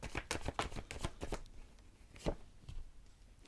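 Tarot cards being shuffled and drawn by hand, a quick series of soft riffling flutters and slaps followed by a few scattered taps, close and quiet with no talking.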